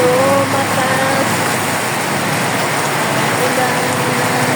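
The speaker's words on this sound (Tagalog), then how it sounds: "Wow, lumakas pang ulan." Loud, dense downpour drumming on surfaces, with a low vehicle rumble and a faint voice briefly in the background.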